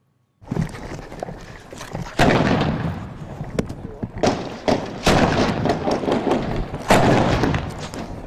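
Heavy gunfire and artillery from ISIS positions a few hundred metres away pound repeatedly in loud, irregular booms and bursts, with rumbling between impacts.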